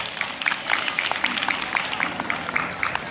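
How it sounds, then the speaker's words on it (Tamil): Audience applause at a Tamil debate event, brisk rapid clapping from a gathered crowd at steady volume, with a voice partly over the claps. "கைதட்டு"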